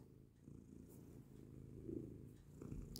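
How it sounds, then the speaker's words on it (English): A female cat resting on a person purrs softly and continuously, a faint low rhythmic rumble that swells slightly near the end. "She's on me, so she's purring."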